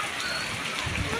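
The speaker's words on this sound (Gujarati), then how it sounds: "જો આ બહુ અત્યારે ધોધમાર વરસાદ ચાલુ છે" A heavy monsoon downpour falls in a village, a dense, steady wash of rain noise close by that fills the short moment without a break.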